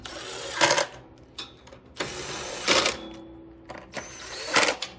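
Bolts on a Powerhorse 11000ES 11050-watt generator are tightened in a crisscross pattern during a gasoline-to-propane conversion, giving three loud, clustered bursts of rapid mechanical clicking spaced about two seconds apart, with quieter clicks between them.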